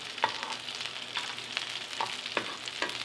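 Cashews, almonds and raisins cooking in a pan on low flame for Saudi kabsa, a gentle sizzle under repeated light scraping stirs roughly twice a second, close and quiet with no talking.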